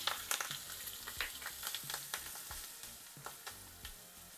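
Green chilies frying in hot oil with mustard seeds, asafoetida and chili powder, the heat already switched off, give a close, crackly sizzle broken by frequent sharp pops and spatters.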